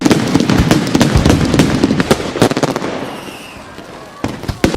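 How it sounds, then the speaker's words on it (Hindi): Firecrackers crackle in a dense, rapid string of sharp bangs at a Diwali celebration in Bangalore, loud at first, then thinning to scattered pops over a lingering hiss before a few more cracks at the end. "बेंगलोर में देखिए लोग पटाखे फोड़ रहे हैं।"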